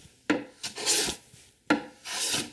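Hand plane smoothing hand-cut wooden dovetails. Two pairs of close, rasping strokes with sharp onsets and short pauses between them, with no talk.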